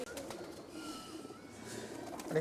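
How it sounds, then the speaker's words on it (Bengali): Giribaz pigeons coo softly in a low, steady murmur of overlapping calls, fairly close, with faint background noise throughout. "গিরিবাজ কবুতর"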